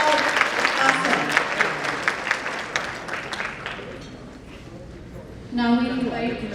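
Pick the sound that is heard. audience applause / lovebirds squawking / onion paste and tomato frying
audience applause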